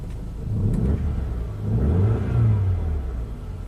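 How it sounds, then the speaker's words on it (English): A Volkswagen car engine revs up twice in succession, rising and falling in pitch, fairly close and loud with a steady idle between. "Seems to rev up okay."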